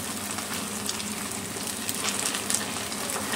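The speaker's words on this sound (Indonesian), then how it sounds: "Kita goreng sampai keemasan." Dough frying in hot oil until golden, a steady dense sizzle and bubbling that holds evenly throughout at close range, with no voices.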